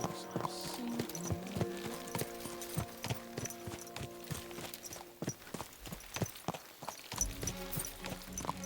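Horse hooves clip-clopping at a steady walking pace in the medieval video game Kingdom Come Deliverance II, a rhythmic series of hoof strikes over faint game ambience and music.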